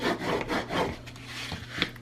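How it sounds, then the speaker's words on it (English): Tape being pressed and rubbed onto a handmade scrapbook album cover, giving soft scraping and rubbing strokes in a few close, uneven passes with a brief sharper sound near the end. "now I need to add a piece of tape in the middle there"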